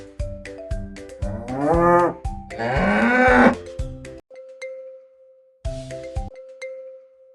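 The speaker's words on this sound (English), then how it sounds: "This is a cow." Two long, low cow moos sound over a cheerful plucked music loop, followed by a held chime tone and the beat returning.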